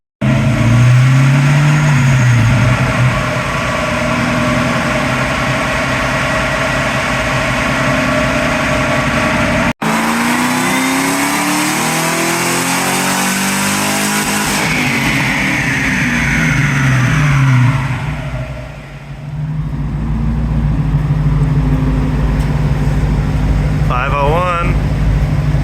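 A customer car's engine revs hard through a full pull on a dyno, its loud sustained roar climbing in pitch before backing off and dropping away near the end, with a brief break partway through.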